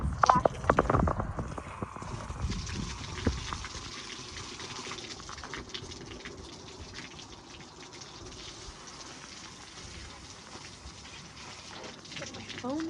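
Water splashes and gushes while pebbles and a fish tank are rinsed, with loud, busy splashing at first that settles into a softer, steady running flow.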